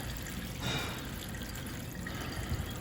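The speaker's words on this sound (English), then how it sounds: "you want to turn on your faucet here and let it run till there's no more water in there" A reverse osmosis faucet runs its tank down until empty, a faint, steady trickle and splash of water under a low background hiss.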